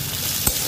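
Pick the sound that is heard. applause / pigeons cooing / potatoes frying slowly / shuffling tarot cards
potatoes frying slowly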